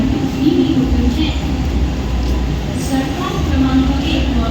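A Mumbai Central line mini local train stands at platform 1 of Diva railway station at night, a loud, steady low rumble of the train with hum and station noise, overlaid by a platform announcement voice.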